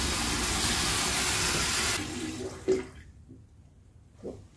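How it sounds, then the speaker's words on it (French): Water rushing into a hose for a DIY solar shower on a van, a loud steady flow for two seconds that cuts off abruptly, followed by a couple of faint knocks and drips in near silence. "On remplit le tuyau d'eau."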